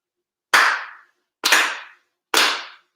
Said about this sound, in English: 4 sincere claps along with the head officiant.